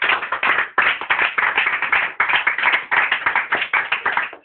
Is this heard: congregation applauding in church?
yes